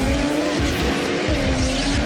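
A big drift wagon slides sideways along a wall at a competition drifting round at The Bend in South Australia, its tires squealing in one loud sustained screech over a roaring engine, close and continuous.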